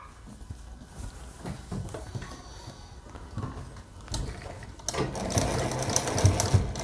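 A sewing machine stitches piping onto the lower edge of a kurti, its rapid mechanical chatter running quietly at first, then growing louder and busier in the last couple of seconds.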